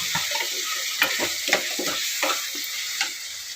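Chopped tomato pieces fry in a hot pan with a close, steady sizzle, broken by a string of soft scraping stirs at an uneven rhythm, and no talking.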